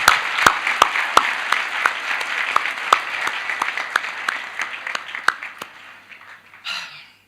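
Applause from a children's parliament audience, sparse individual claps standing out over a steady patter that thins out near the end, followed by a brief murmur.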